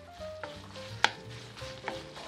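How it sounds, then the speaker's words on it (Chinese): Pork and vegetables stir-fry in lard for salted pork rice, giving a faint, low sizzle broken by a few sharp clicks of a utensil against the pan. "肉和菜切好后要先炒一下，放些油，猪油是首选。"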